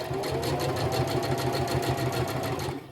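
A sewing machine stitches a tote bag seam with a rapid, even mechanical chatter, loud and close, running steadily before slowing at the end.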